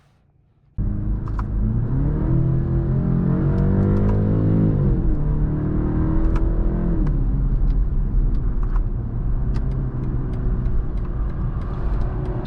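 A 2024 BMW 530i xDrive engine hums steadily as the car drives along the road, rising briefly in pitch as it accelerates, with constant road and tire noise.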